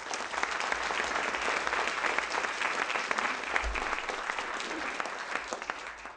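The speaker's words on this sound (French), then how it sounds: "Je vous demande de l'applaudir." Sustained audience applause at a conference introduction fills the room, dense and steady throughout with no speech over it.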